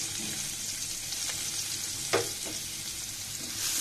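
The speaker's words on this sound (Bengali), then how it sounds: "এই পর্যায়ে অ্যাড করে দেবো পেঁয়াজ।" Onion going into a hot oiled pan while cooking a long bean and potato curry: a steady close sizzle of frying with a brief clatter partway through, and no voices.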